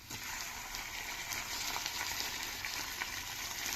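Chopped tomato and onion frying in a pan, a steady close sizzle with soft crackles and no voices.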